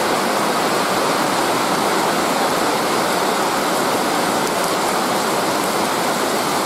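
A heavy dry-season rain shower pours over a yard, a loud, dense and unbroken hiss of falling water with no voices.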